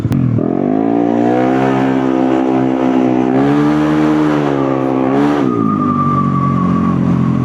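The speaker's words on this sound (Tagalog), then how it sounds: "Ingay ng motor, grabe." A loud motorcycle engine, a loaded NMAX-type scooter ridden by a Grab rider, roars steadily up close and swells through higher revs before easing to a lower drone, with no talk.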